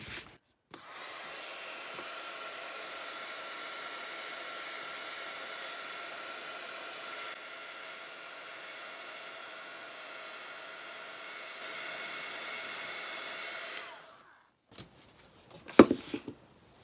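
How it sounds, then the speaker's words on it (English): A heat gun blows hot air over aged wood, a steady close roaring hiss that runs for about thirteen seconds and then cuts off, followed by a few faint knocks and handling noises. "I'm going to turn on my heat gun and kind of dry it"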